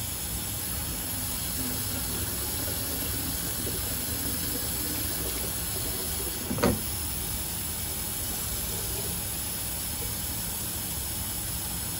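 Warm water running steadily from a tap in a farm setting while a bottle is filled to mix feed for a newborn calf, a constant hiss with one brief clunk partway through.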